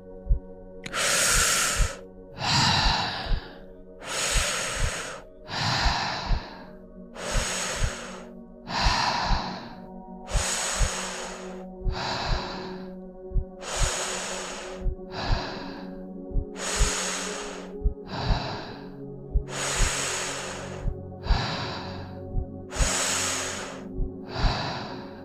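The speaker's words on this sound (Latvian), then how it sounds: "bet turpinam elpot." Deep rhythmic breathing in the Wim Hof method, about a dozen cycles of strong inhales and long hissing exhales, close and loud, alone without talk.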